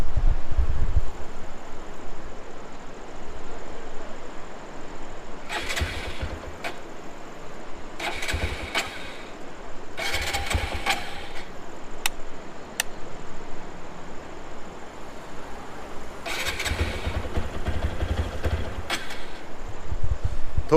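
TVS Apache 200 4V BS6 motorcycle with a missing problem, its electric starter cranking in four or five separate bursts of a few seconds each, close by, with quiet pauses between attempts.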